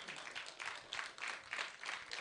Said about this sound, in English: a round of applause for fella